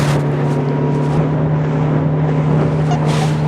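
A high-speed motorboat runs across the water in Alappuzha, its engine holding a steady, loud hum under constant wind and water rush.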